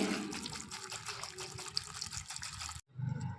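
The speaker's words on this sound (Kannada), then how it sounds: "ಇದು ಮುಳುಗೋ ಅಷ್ಟು ನೀರು ಹಾಕ್ಕೊಳ್ತೀನಿ." Water pours steadily into a pressure cooker over mixed vegetables for a vegetable sambar, a close, continuous gushing splash that stops abruptly near the end, followed by a brief clatter.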